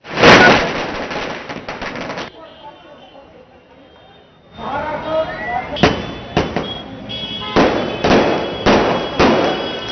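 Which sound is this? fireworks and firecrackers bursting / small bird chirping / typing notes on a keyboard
fireworks and firecrackers bursting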